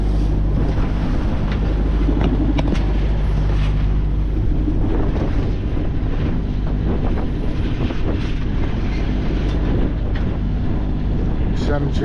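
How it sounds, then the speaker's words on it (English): Wind at sea buffets a sailboat in building swell around 16 knots, a constant loud roar of wind and water rumble with microphone buffeting throughout, and someone speaks over it. "Wind's getting up 16 knots."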